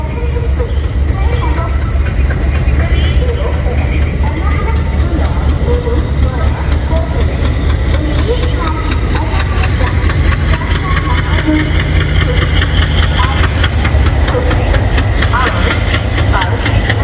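An electric locomotive idles loudly and close, a steady deep hum and drone holding throughout, with someone speaking over it.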